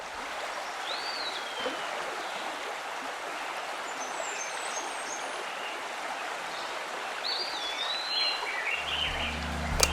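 Flowing stream with a steady broadband rush of water, joined by scattered bird chirps and calls throughout; a low rumble creeps in near the end.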